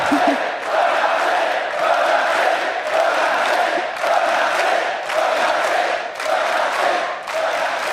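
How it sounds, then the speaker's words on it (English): A large esports crowd cheers and roars continuously, loud and sustained with rhythmic surges, like a packed arena, at a League of Legends quarterfinal. "The cheering will go on and on."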